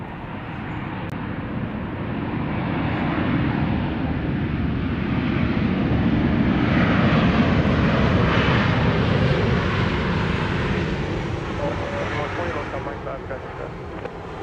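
A Southwest Airlines jet landing on runway 31 left at Dallas Love Field, its engine roar steady and loud throughout with broadband rumble and wind noise at the observation area.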